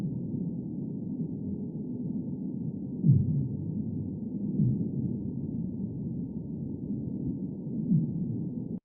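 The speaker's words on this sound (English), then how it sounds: "this sound also had to be sped up, and we would match it with fin or sea whale" Fin whale down-sweep calls, sped up from a 50 to 30 hertz recording, sound as a steady low rumbling drone with a few brief swelling sweeps near the middle and end, heard alone without talk.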